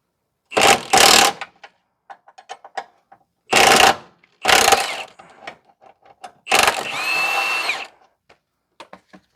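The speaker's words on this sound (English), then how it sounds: "19 millimeter wrench on top to hold the nut on the hockey puck style bushing. So we are going to take that off now." The nut is removed from the hockey-puck-style lower control arm bushing of a 2009 Pontiac Vibe 2.4 with a 19 mm wrench. Four loud, close bursts of rattling tool noise are separated by near-silence with small clicks.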